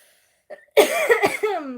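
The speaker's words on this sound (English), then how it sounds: "And I apologize if I'm coughing." A single harsh cough bursts out after a brief breath, close and clear, in a quiet room.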